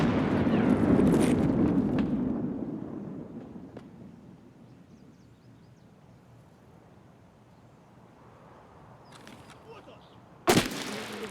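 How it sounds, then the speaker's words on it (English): Grenade explosions and gunfire in Escape From Tarkov: a heavy rumbling blast fades into a long quiet, then a sharp, loud gunshot cracks near the end. "Sounds like he's right there. And he's throwing nades."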